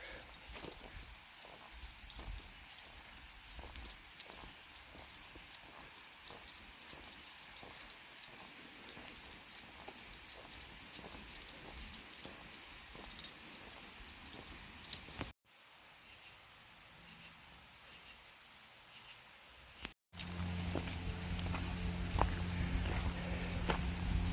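Water flows steadily down from the mountains, a continuous hissing rush on a trail. It is broken briefly by two short gaps, then returns louder and closer.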